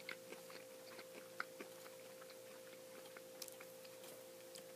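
Chewing on a Taco Bell Naked Chicken Chalupa, fried chicken shell, with soft crunches and bites close to the microphone, faint and irregular over a steady low hum.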